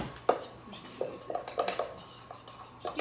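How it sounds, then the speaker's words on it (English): A utensil clinks and scrapes against a bowl while stirring a pumpkin pie spice mixture, a quick series of close, light metallic taps and rattles with no one talking. "we're just going to mix well and then set this aside"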